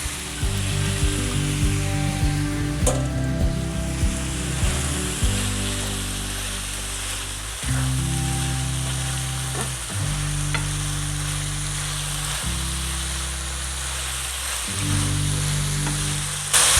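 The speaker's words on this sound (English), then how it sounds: "And now I'm gonna add some black beans that I have drained and rinsed." Drained, rinsed black beans are tipped into sizzling taco meat in a pan and stirred, giving a steady frying hiss with repeated scraping strokes of the spoon at regular intervals.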